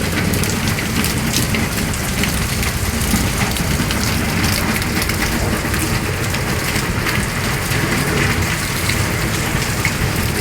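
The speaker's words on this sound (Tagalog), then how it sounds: "Napakalakas po ng ulan at hangin." Heavy typhoon rain with strong wind pours down in a dense, steady roar, loud and unbroken throughout with no voices.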